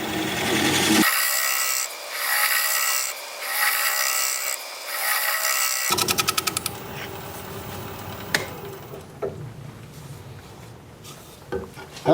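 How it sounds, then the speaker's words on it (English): A scraping tool works the bottom of an olive wood bowl spinning on a lathe, producing a steady, close, rasping scrape that gives way to softer intermittent scratches and taps. "I'll scrape that bottom"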